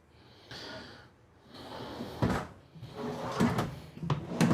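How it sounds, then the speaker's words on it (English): Large full extension drawers in a 2026 Newmar Dutch Star 4340 motorhome sliding open and shut. The clip carries several close sliding and thudding movements, growing louder toward the end, with soft rustles between them. "you get these 3 nice big full extension drawers"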